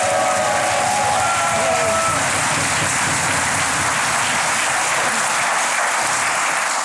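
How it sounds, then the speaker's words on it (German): Continuous, full studio-audience clapping at a celebrity game show, loud and even throughout, with a brief voice near the start. "Jetzt hört man mit der blöden Klatscherei auf"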